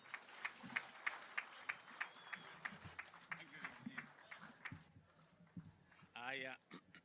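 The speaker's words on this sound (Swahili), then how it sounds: "tumkaribishe rais wa 5 wa Jamhuri ya Kenya, Rais William Ruto. Kwa makofi." A crowd in Mombasa clapping to welcome Kenyan President William Ruto at the Tiafa Gas launch, a fairly faint, rhythmic patter of applause with a voice speaking over it.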